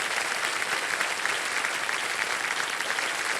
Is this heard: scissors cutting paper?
no